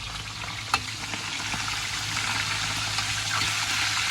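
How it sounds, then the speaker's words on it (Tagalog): Talakitok fish frying in a shallow layer of oil, a steady close crackle and sizzle with a sharp pop near the start and no talk. "ito natin piniprito"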